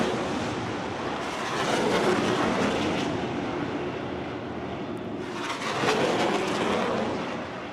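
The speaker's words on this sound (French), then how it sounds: "Des avions de chasse ont ensuite brièvement interrompu le discours du chef des FARC." Fighter jets roaring low over an outdoor peace ceremony where a FARC leader is giving a speech, a loud continuous rushing drone that swells twice, with no talk audible.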